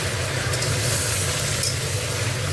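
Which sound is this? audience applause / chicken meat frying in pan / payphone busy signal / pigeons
chicken meat frying in pan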